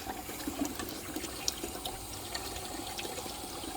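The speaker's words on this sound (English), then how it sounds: "So we got crystal clear water coming through there now." Water rushes steadily through a heater core hose on a first-generation Cummins truck during a flush, a close continuous splashing gurgle with small spurts and drips.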